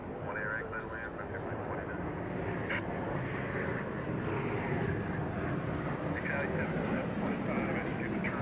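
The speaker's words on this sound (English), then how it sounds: "see the arrival of American Flight 2465 from Santa Ana, California" An American Airlines jet arriving at DFW Airport from Santa Ana, California, makes a steady, continuous broadband roar that stays at an even level, with a voice talking over it.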